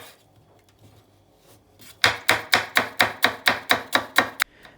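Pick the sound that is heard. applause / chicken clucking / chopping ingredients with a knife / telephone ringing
chopping ingredients with a knife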